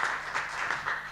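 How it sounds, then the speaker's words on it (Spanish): An audience at an international conference applauds a doctor after her talk, a brief, fairly faint patter of many hands clapping with slight surges, heard from a distance. "les pido un fuerte aplauso para la doctora"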